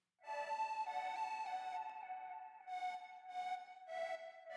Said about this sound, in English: this Mini Moog high melody